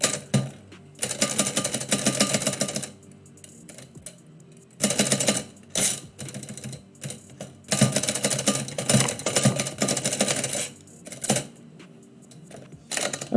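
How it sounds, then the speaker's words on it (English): A freshly repaired typewriter clatters in rapid bursts of keystrokes separated by short pauses, close and crisp, used for typing out poetry live. "I really wanted to get this typewriter repaired in part because it is quick on the draw when it comes to typing out my signature"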